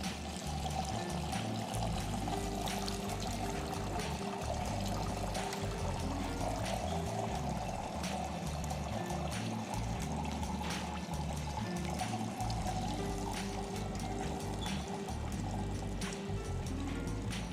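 Liquid pours steadily and continuously for a long stretch, a constant splashing stream layered over a sustained musical backdrop.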